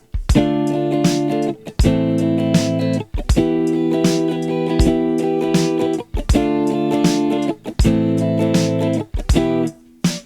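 Steady rhythmic guitar strumming of chords at about 80 BPM, bright percussive strokes repeating in a relaxed groove, close and fairly loud.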